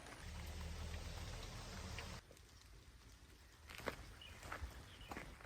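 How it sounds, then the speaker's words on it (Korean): Sudden heavy rain pours down in a dense, steady hiss in a rural Jeju field. It eases after a couple of seconds, and scattered drops and a few footsteps follow nearby. "갑자기 비가 많이 오네"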